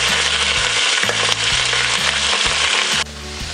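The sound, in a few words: broccoli being sautéed in a pan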